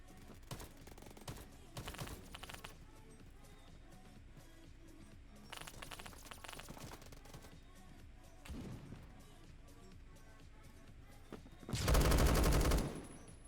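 Gunfire from a large gun in the video game Roblox, several short bursts of rapid shots separated by quieter gameplay, ending with a loud heavy blast.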